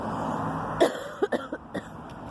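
A few short, dry coughs in quick succession over a low background hum, fairly close and moderately loud.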